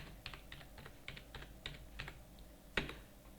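Typing on a computer keyboard during data entry in accounting software, a series of light, quick key clicks at an uneven pace with one sharper keystroke near the end, close and quiet.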